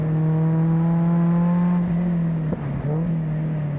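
Mazda Miata NC race car on track, a steady in-car engine drone holding a fairly constant pitch, then briefly dipping and shifting near the end, with wind and road rumble underneath.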